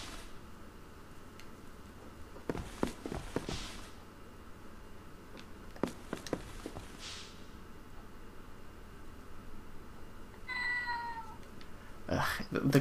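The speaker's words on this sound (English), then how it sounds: "the cat meowing into my Wiimote startles me every time" A cat meows through the small Wii Remote speaker during the video game Fragile Dreams, a short, bright meow late in the clip, with a voice talking earlier over a quiet game background.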